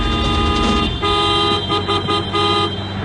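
A car horn sounds in a sustained, steady honk that holds loudly through the whole moment, with no talking.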